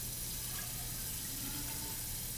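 Water runs steadily from a tap in a lab, as for diluting hydrochloric acid, a constant rushing splash with no pauses and no voices.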